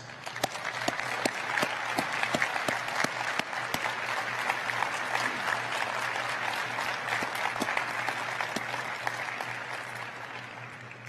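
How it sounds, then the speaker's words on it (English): Sustained applause from a large crowd at a university winter commencement ceremony in a big hall, steady and even throughout with sharp individual claps standing out, no talking over it. "please stand up and join me in a big round of applause in recognition of your families and of"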